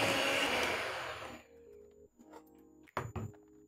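Sugar and margarine being mixed into a blueberry cake batter make a loud, steady whirring rush for about a second and a half, then it stops, leaving quieter scattered tonal sounds and a few soft knocks.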